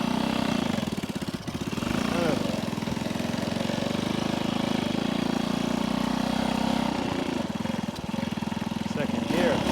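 Vintage 1964 Honda C200 motorcycle engine running while ridden, a steady loud putter with rough, pulsing texture and wind noise, close to the mic, with talk over it.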